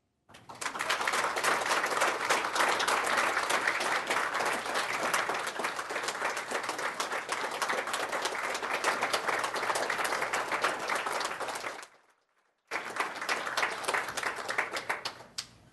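Sustained applause from a city council meeting audience in Rapid City, dense steady clapping at close range for about eleven seconds, a brief break, then the clapping resumes.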